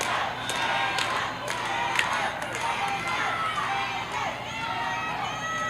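A wrestling crowd cheers for Tessa Blanchard in her match against Miranda Alize, a continuous arena roar with scattered claps and shouts beneath a commentator talking.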